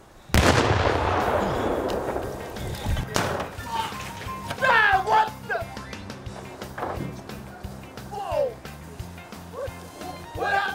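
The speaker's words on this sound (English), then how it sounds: "There's a slight chance we may have overestimated how big the bomb needed to be." A homemade gunpowder bomb goes off near a car with a single loud, sharp blast that rings out and decays over a couple of seconds, followed by excited voices talking and shouting outdoors.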